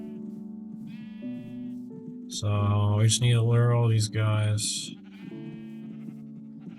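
Sheep in the Minecraft video game bleat loudly in a close burst of several wavering calls mid-clip, while someone talks before and after over the game sounds.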